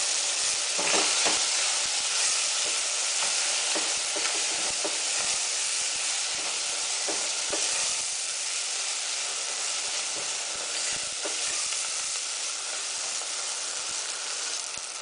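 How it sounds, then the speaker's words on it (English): A stew of yellow split peas and dried plums sizzles steadily as lemon pepper, cinnamon, pepper and salt are stirred in, a dense close hiss with scattered spoon scrapes and no talk. "the cinnamon, the pepper, the salt. Stir all that together."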